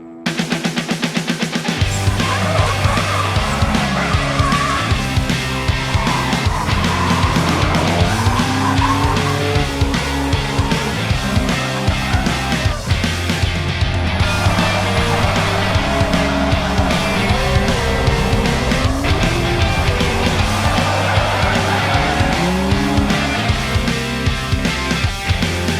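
Cars drifting on a grassroots drift track, engines roaring continuously throughout with tire squeal and skidding layered over a steady, loud motor drone and gear changes.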